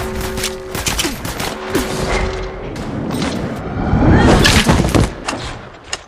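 Rapid bursts of gunfire and dull thumps ring out during a match in the Apex Legends Mobile video game, dense and loud throughout, swelling toward the end.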